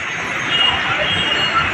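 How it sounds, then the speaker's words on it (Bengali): A metro rail train pulling away from a station at Farmgate, a steady mid-distance rumble and rolling hum with faint wheel squeal rising over it. "সময় মতো শুধু ছেড়ে যাচ্ছে মেট্রো রেল।"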